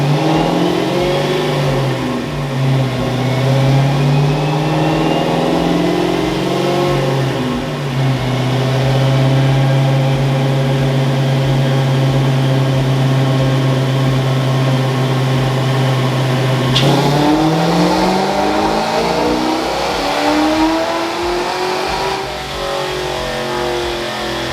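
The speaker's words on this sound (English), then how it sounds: "let's go ahead and roll the footage now of the dyno pull after being custom tuned" Custom-tuned Ford car with a head-cam upgrade revving hard on a chassis dyno: loud, close engine climbing steadily through the gears in long pulls, then a brief drop and another rising sweep.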